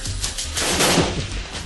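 A gunshot sound effect plays as a loud burst of rapid, cracking gunfire, sustained and close, with no voices over it.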